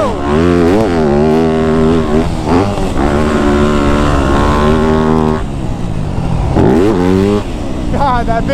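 Yamaha YZ250F four-stroke dirt bike ridden around a motocross track, a loud close engine revving up and down through gear changes with sharp throttle blips and steady high-pitched wails.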